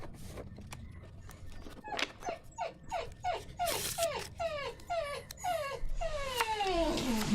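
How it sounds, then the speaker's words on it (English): A very whiny dog lets out a long series of high squeaky whines and whimpers, rising and falling in quick repeated cries, close and fairly loud against faint background noise. "Very squeaky, much more squeaky than a normal dog."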